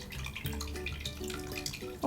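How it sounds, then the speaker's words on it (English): A small AeroGarden Harvest 6-pod hydroponic pump bubbles water up close in a steady, continuous gurgle with scattered drips, and no one speaks. "it's just a little bubbling pump"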